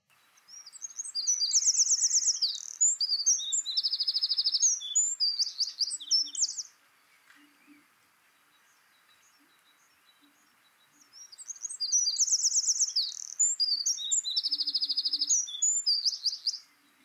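Songbird singing in two bursts of rapid, varied, high-pitched phrases, each lasting about five seconds with a quiet gap between them, clear and fairly close.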